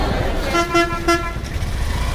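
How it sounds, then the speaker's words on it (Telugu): A bus horn toots at a busy bus stand in Mahabubnagar, sounding three short, loud honks in quick succession over a steady background rumble of idling engines and crowd noise. "ఇప్పుడు వస్తున్న బస్సు"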